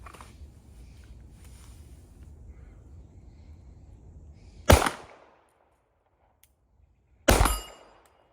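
Two sharp pistol shots from a Sig P365XL fitted with a Romeo XC sight crack out at an outdoor range, spaced a few seconds apart, each followed by a short echo after quiet ambient noise.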